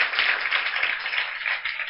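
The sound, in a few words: children clapping to welcome guests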